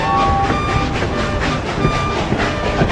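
A long train of freight trucks rolls along the rails, an added sound effect with steady rumbling and rhythmic clickety-clack of wheels over joints, continuous and fairly loud.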